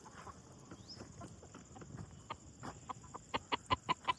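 Native desi (gavran) chickens cluck on a small poultry farm. Scattered soft clucks give way to a rhythmic run of sharper, louder clucks at the end.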